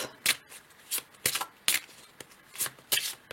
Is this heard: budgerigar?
no